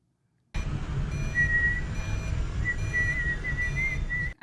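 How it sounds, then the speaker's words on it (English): Whistling from a scene in the sci-fi series The Expanse, heard as a thin tune that comes in brief stretches over a steady loud background rumble, with no talk. "anyone can whistle"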